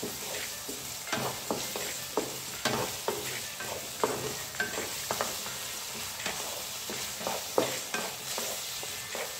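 A small cut potato fries in a pan over medium heat, a soft steady sizzle under a regular series of light spoon taps and stirring scrapes close by.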